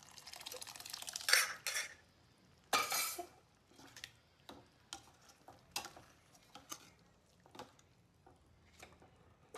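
A spoon scrapes and clinks against a pot as misal is sautéed in masala, giving quiet, intermittent stirring strokes with a few sharper metallic knocks and soft wet sounds between them.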